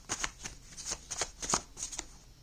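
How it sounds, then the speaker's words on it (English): A deck of tarot cards is shuffled by hand in a series of quick riffling bursts, about eight close, crisp flurries in a fast uneven rhythm, with no talking. "I'm going to put them back in and shuffle one more time."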